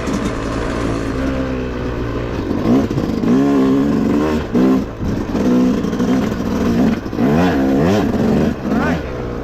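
A 2025 Yamaha YZ250X two-stroke dirt bike revs and rides along a wooded OHV trail loop, its engine note climbing and falling in repeated bursts, loud and close throughout the clip.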